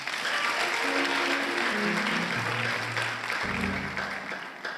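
A church congregation applauding, a loud, dense, steady wash of clapping from many hands, with voices and sustained tones underneath throughout.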